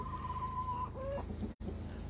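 Chickens cluck softly and steadily, with a short rising call partway through, over a constant low background hum.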